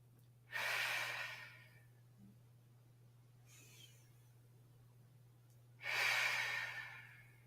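Two slow, audible breaths during a Pilates session, each a soft broadband whoosh lasting about a second and a half, separated by quiet with a steady low hum underneath.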